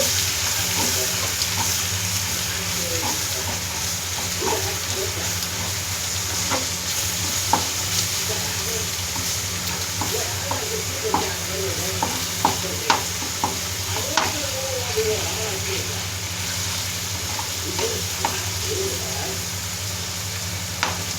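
Mutton pieces coated in ginger garlic paste fry in a pan with a loud, continuous sizzle, while a spatula scrapes and clacks against the pan in repeated strokes over steady background hum.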